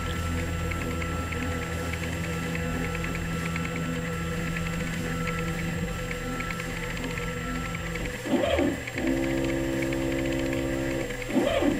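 A QueenAnt PRO CNC 1515 router homes all of its axes, giving a steady mechanical hum under a faint background tone, then near the end a few louder whirring stepper-motor sweeps as the gantry moves.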